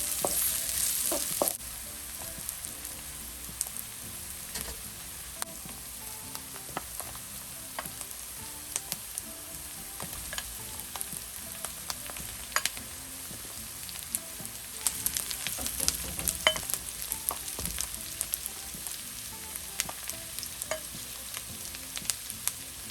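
Onion and garlic sautéing in a pan for pancit bihon guisado, with a continuous close sizzle and repeated scraping stirs of a utensil across the pan, steady and unbroken, no talking.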